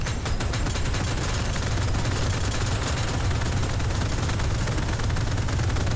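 Rapid continuous gunfire from the video game Deadzone Rogue, a dense, loud barrage of automatic shots with heavy low-end thump, sustained without pause and with no talking.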